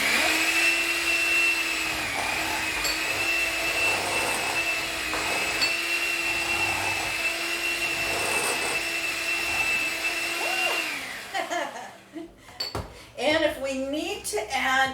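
A steady, loud electric mixer whirs through energy bite mixture with cocoa powder in a kitchen, running continuously for about eleven seconds before cutting off, then someone talks.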